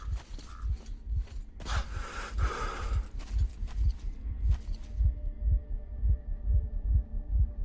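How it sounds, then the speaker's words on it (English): A steady heartbeat thuds in a post-apocalyptic shooter game, Metro Exodus, its pulse repeating in a low, even rhythm throughout, with faint game ambience and brief rustling layered over the first half. "Why am I hearing his heart beating?"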